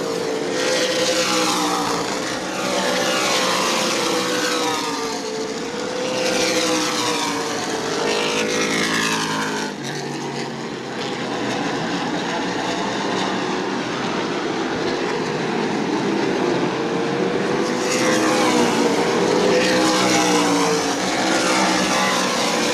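Stock race cars racing around New Smyrna Speedway, a loud continuous roar of several engines with rising and falling pitch sweeps as the cars pass, without any talking.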